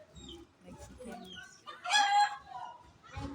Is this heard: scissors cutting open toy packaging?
no